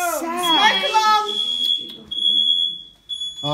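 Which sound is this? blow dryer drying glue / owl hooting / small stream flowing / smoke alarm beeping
smoke alarm beeping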